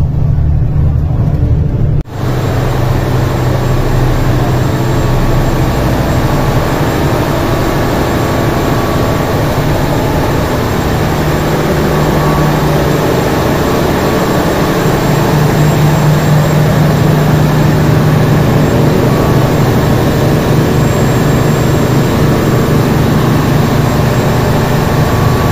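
Engine room of the KMP Siginjai car ferry: a loud, constant low-pitched engine drone with a steady mechanical roar, unbroken for the whole stretch and with no voices over it.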